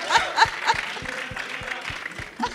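An audience at a Marathi comedy-drama film trailer launch claps in a quick, even rhythm, with scattered chuckles and light voices mixed in.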